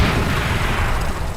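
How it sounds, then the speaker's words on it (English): A bomb blowing up in the Garry's Mod game, one loud, dense booming blast with a short rumbling tail. "there's your big explosion"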